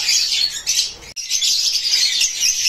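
Caged pet birds at a holiday closing sale, including Lutino and other colour mutations, chirp and squawk in a loud, dense, continuous chorus close by, with one brief sharp break partway through and no talking.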